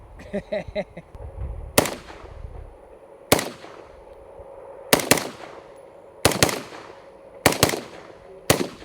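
Rifle shots through a Huxworks 7.62 Flow TI suppressor fire one at a time: sharp cracks, mostly single with a couple of quick pairs, spaced a second or so apart outdoors. A brief clatter opens.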